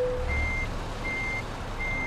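Truck reversing alarm in Euro Truck Simulator 2: three evenly spaced, steady high-pitched beeps over a low idling engine hum.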